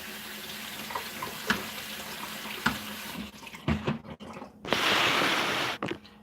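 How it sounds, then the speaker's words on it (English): Cherry tomatoes are rinsed in a colander under running tap water, first with light splashing and clattering, then a loud steady gush of water near the end, with no talking. "we're going to have our cherry tomatoes, which I think would be wise to rinse"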